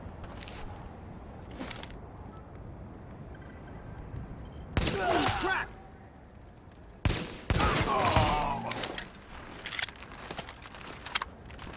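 Gunfire in Tom Clancy's The Division comes as several loud, separate bursts of rapid shots with quieter gaps between them, and a voice talks between the volleys.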